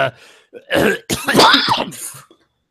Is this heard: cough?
yes